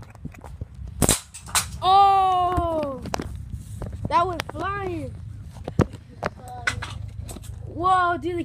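A pellet gun fires at cans, making several sharp, separate pops spread irregularly through the clip, mixed with people's voices.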